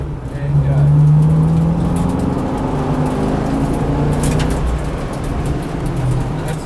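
A V8 Supercar engine driven hard around a race track, loud and sustained with a steady low drone and rising revs, while an instructor talks over it.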